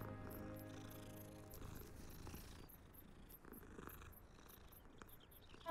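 A cat purrs in the video game Hogwarts Legacy, a soft rumbling purr heard faintly for a few seconds over quiet game ambience before it fades out.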